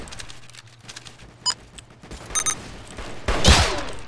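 Roblox first-person shooting game gunfire: a few sharp isolated shots followed by a quick burst and a louder, noisier blast near the end, over faint game background.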